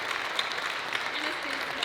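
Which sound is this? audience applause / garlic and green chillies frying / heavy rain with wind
audience applause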